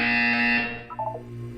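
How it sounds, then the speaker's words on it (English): A harsh electronic buzzer from the video game Portal 2 sounds loudly for about half a second, then fades into a brief tonal chime over a low hum. "You will hear a buzzer."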